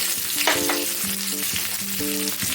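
Onion hits lightly heated oil with cumin, setting off a loud, dense, close sizzle with a few clinks from a stirring spoon, and no one speaking.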